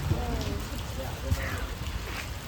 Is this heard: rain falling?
yes